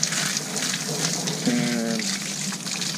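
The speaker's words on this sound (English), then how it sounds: "pumping dirty water, silty water" A cabin well pump gushes dirty, silty water in a steady, loud rushing stream that runs without a break, with a faint tonal hum partway through.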